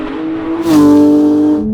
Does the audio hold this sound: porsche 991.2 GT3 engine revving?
yes